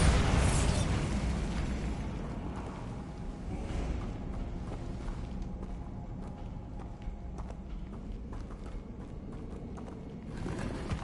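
A Bombarda explosion spell in the Hogwarts Legacy game opens the clip with a loud, deep blast that slowly decays into a rumbling wash, followed by scattered light clattering and steps.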